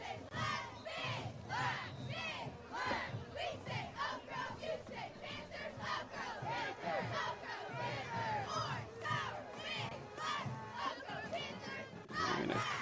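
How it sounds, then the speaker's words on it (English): A high school football crowd at a CHS versus Oak Grove game yells and cheers continuously, a loud churning mass of voices with bursts of shouting rising and falling throughout. "Giving the fans a lot to cheer for here"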